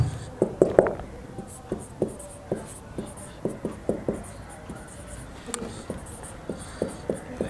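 Pen scratching on paper during a principles-of-finance tutorial: a string of close, brisk writing strokes in irregular bursts, with occasional faint voice in the background.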